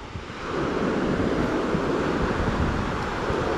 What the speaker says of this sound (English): I like to listen to the sounds of the ocean when we eat our meals.